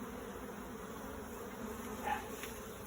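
Honey bees swarm and buzz around an opened backyard hive during an outdoor hive inspection, a steady close-up hum with one louder pass near the microphone.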